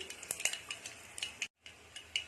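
Mustard seeds and dry chillies crackle in two tablespoons of hot oil for rasam, with scattered sharp pops and spatters over a soft sizzle and a brief dropout near the middle.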